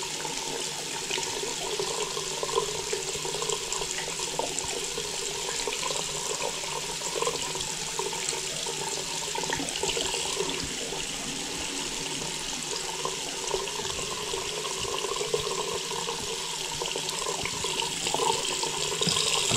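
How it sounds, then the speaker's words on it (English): Tap water runs steadily into a bathroom vanity sink as it fills, a continuous close hiss and splash with no talking. "I fill this sink all the way up and flood it"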